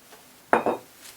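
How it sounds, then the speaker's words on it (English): St. George California Agricole rum is poured into a glass in a brief clinking splash of two quick bursts, close and alone. "let's pour some in the glass"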